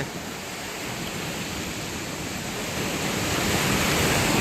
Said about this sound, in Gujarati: મસ્ત મજાના ઝરણા છે